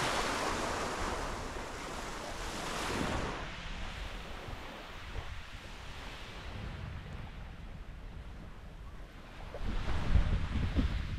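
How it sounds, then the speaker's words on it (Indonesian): Ocean surf rolls steadily onto Tablolong beach near Kupang on Timor island, a continuous wash of breaking waves with wind buffeting the microphone and a louder surge near the end. "Dan inilah suasana Pantai Tablolong."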